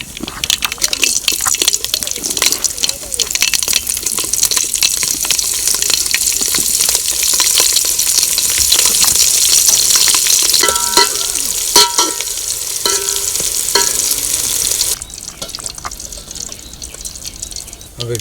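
Green chillies fry in tempered oil with a steady hiss and crackle, broken by repeated scraping and clinking of a spoon stirring the pan, until the sizzle drops quieter near the end.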